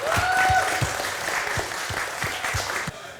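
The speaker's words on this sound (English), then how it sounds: "Round of applause for them." An audience at LAN gaming tournament awards claps together in a dense, steady round of applause lasting a few seconds before it thins out.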